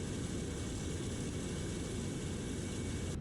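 Simulated jet engines idle on an IniBuilds Airbus A350 airliner in Microsoft Flight Simulator, a steady, loud, unbroken roar and hum with no change in level and no voices.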